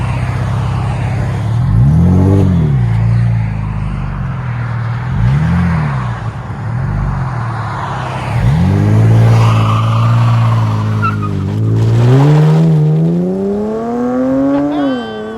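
A 2019 Dodge Challenger GT with the 3.6L V6 burbles through its exhaust, then gives three quick separate revs before a longer climbing rev that drops back, loud and close, with no voices.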